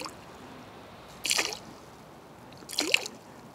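Water drips from a Sagan hand pump water purifier: two separate splashy drip bursts over faint background hiss, close by, with no talking.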